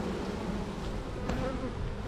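A close, steady buzzing drone of many honeybees massed together as they crawl into a hive box during a hive split, continuous throughout with no one speaking.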